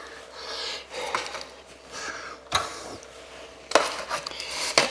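Soft clattering and scraping of chicken being set into thin aluminum pans, with a few sharper crinkly clanks, close by and irregular.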